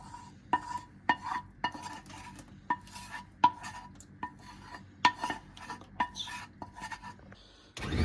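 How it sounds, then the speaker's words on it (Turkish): Waffle batter is mixed with melted butter in a bowl, a whisk or spoon repeatedly clinking against the bowl's side in a steady rhythm of bright taps with soft swishing between, close and alone. "Tereyağımızı ekip karıştırmaya devam ediyoruz."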